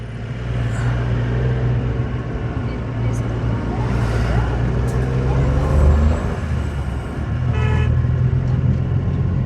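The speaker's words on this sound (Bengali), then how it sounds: "এই যে গাড়িগুলো উঠছে নামছে গাড়িগুলো, ঠিক এরকমভাবে আমরা উপরে উঠছি।" Cars and other vehicles climb and descend a winding mountain road near tea gardens at Dawaipani, giving a loud, continuous engine and road rumble with occasional horn toots close by.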